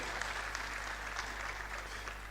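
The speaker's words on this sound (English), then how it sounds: "Another round of applause for him." A convocation audience at the University of Lagos gives a round of applause for Babatunde Raji Fashola, a continuous, moderately distant clapping with a few sharper individual claps over a constant low hum.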